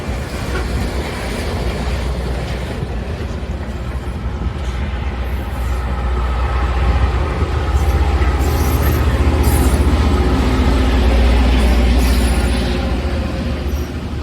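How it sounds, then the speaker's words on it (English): Reading and Northern low-ram rail grinding train rolling past close by, a steady heavy rumble and broadband grinding roar that swells in the second half, with no talk. "I happened to come across a visitor on the Reading and Northern, the low-ram rail grinding train"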